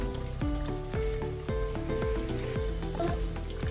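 Carrot pieces sizzle steadily in oil in a pan, with repeated scraping strokes of a utensil turning and flipping them at a regular rhythm, close and fairly loud.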